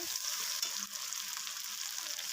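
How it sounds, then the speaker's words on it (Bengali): A ground paste of ginger, cumin, tomato and chilli fries in oil with a bay leaf and cumin tempering, producing a soft, even sizzle throughout, close and unbroken, with no talking. "তেজপাতা জিরা ফোড়ন দিয়ে মশলাটা কষিয়ে নেব"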